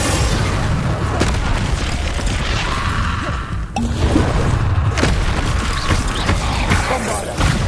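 Bombarda spell explosions in the video game Hogwarts Legacy: a dense, continuous run of loud booming blasts and crashing impacts, close and heavy, with a sharper hit near the middle and no break in the barrage.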